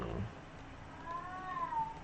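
A quiet cat meows once, a faint, drawn-out rising-then-falling cry heard alone against low background noise.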